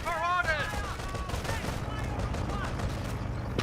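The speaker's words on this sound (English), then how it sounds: "Bit of a Bren burst." A Bren light machine gun fires a rapid burst in the World War II strategy game Company of Heroes, its crackling shots layered over a dense, continuous battle din of other gunfire.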